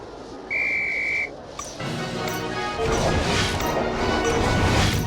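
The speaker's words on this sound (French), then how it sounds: "À mon coup de sifflet" One short, shrill whistle blast from the Harry Potter PS1 video game sounds, then a burst of crashing and clattering noise rolls on until the end.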